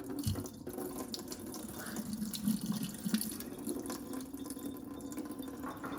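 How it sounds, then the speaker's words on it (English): Lentils being rinsed under a running kitchen tap, a steady close wash of flowing water with light splashing and drips in the sink, continuous throughout with no talking. "The thing about lentils, just like your rice, you wanna rinse it 3 times."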